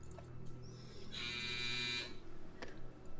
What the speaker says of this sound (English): Sorry, that was my dryer.